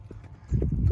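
Donkey hooves clip-clop on a rural road between sugarcane fields on the West Bank of Luxor, Egypt, with the rider on its back; a quiet start gives way to louder, closer, steady hoofbeats in the second half.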